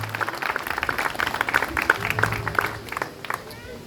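Audience applause at a koi show awards ceremony in France, a rhythmic crowd clapping with distinct individual claps, while a voice talks over it and the clapping tapers off near the end.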